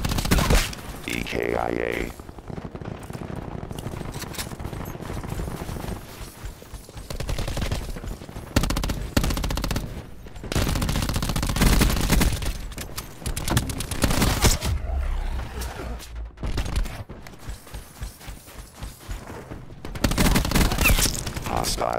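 Sustained Scythe minigun fire in Call of Duty on the Nuketown map, loud dense bursts of rapid shots with brief gaps, mixed with other game effects and a voice speaking over the action.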